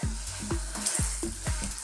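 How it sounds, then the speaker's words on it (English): A floured cod fillet goes into very hot oil in a pan, producing a close, steady frying hiss with regular low thumping pulses about four times a second beneath it. No voices. "This is fairly hot this oil, let's get it in."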